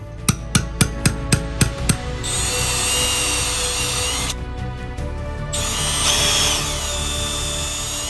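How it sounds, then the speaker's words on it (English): Several sharp mechanical knocks in quick succession give way to the loud, sustained whine of a power drill boring a series of holes through an old pipe stuck inside a toilet drain hub, pausing once briefly. "drill a series of holes through that old piece of pipe that's inside the hub"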